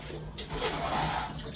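Water sloshes and pours into a water tank being cleaned, a steady close splashing wash with a faint voice in the background.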